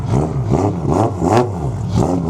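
A turbocharged Toyota 2JZ-engined drift car with an aftermarket exhaust manifold revs loudly and close in repeated rising pulses, its engine note swelling and dipping in a steady rhythm.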